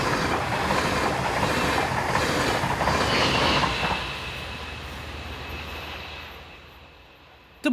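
A locomotive-hauled train behind a Class 146 electric passes close on the rails, a broad loud rumble with wheel clatter that fades gradually as it moves away.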